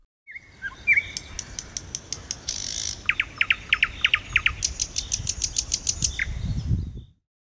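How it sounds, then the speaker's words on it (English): A nightingale sings a varied, rich phrase sequence: a few whistled notes, then rapid repeated chirps and trills building into fast clicking runs, close and clear over faint background noise. "Nightingale."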